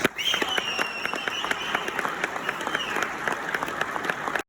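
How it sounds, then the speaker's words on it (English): Firefighters and guests at an honor guard opening ceremony break into a round of applause, a loud, sustained burst of many hands clapping that stops abruptly at the end. "I think you guys should give yourselves a big round of applause"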